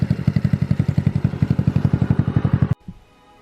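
A Honda Ruckus scooter with a GY6 150cc engine idles close by in a steady, rapid chugging pulse with a rattly edge, then cuts off abruptly into near quiet.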